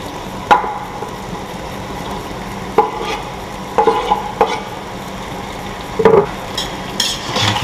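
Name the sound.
stirring paprika and tomato in a cooking pot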